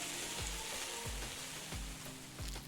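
In the cooking video game Venba, onions fry in a pan with a soft, continuous sizzling hiss and a dull thump every half second or so, quiet and without speech.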